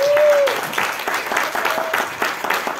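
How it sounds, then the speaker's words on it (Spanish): An audience claps for performer Benjamín Piña after a theatrical monologue at a free-thought event, a dense, steady round of applause lasting throughout, with a brief voice at the start. "Nuevamente un aplauso,"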